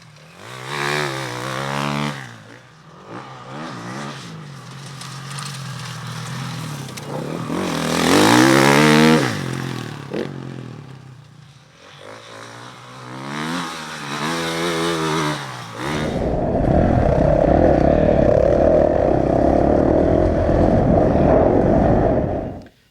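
KTM 450 EXC-F enduro motorcycle ridden hard, single-cylinder engine rising and falling through revs in repeated loud bursts, then a steady, rough high-revving drone near the end.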